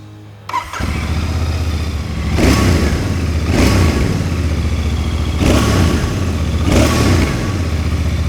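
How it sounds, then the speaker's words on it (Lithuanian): A Royal Enfield Bear 650 twin-cylinder motorcycle starts up and idles with a deep, throbbing beat close by. It is revved hard several times, each rev rising to a loud roar and then falling back to idle. "paklausykime, kaip šis motociklas skamba"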